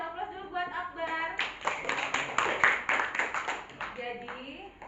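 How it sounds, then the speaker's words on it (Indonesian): A classroom of students claps for a classmate's presentation, a burst of dense overlapping hand claps lasting a few seconds, with a teacher talking before and after. "Kasih aplaus dulu buat Akbar."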